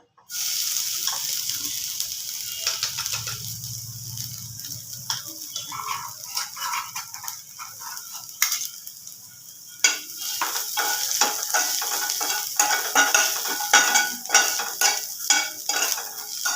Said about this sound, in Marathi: मसाल्याला तेलावरती चांगलं भाजून घ्यायचे.